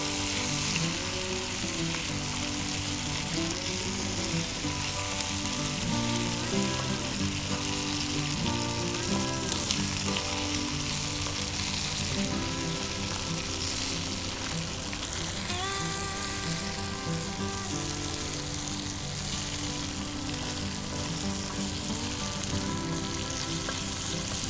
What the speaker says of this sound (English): So I'm just going to mix it in really good. Just break it up.